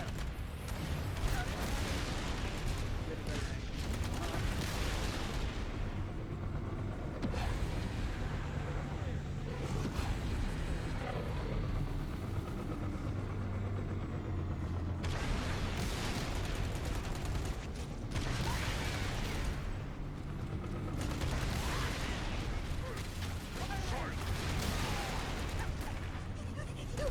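Weapons fire in the Halo CEV game during a firefight against a Ghost vehicle, with dense bursts of shots and explosions layered over game ambience and voiced dialogue throughout.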